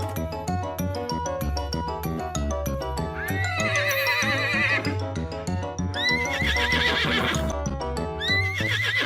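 A horse galloping in a children's rhyme, bouncy clip-clop hoofbeats and repeated whinnies over a steady music track.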